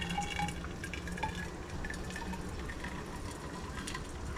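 Freshly boiled hot water is poured out, a soft, steady trickling and gurgling stream with faint drips, heard close and quiet throughout.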